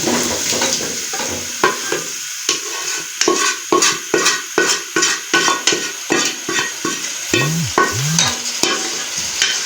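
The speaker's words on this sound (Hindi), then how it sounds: "इस सारे सालन को हम दूसरे पतीले में शिफ्ट कर रहे हैं" Potato curry (saalan) for an aloo masala pulao is scraped and stirred as it is shifted into another cooking pot: a close, steady run of rhythmic spoon-on-metal scrapes and clanks over a soft sizzle, with no talking.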